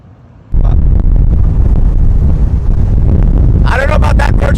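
Wind roars past an open Ferrari driving without a windshield, a sudden heavy rush that starts abruptly and stays loud and steady, buffeting the microphone, with a brief higher whine near the end.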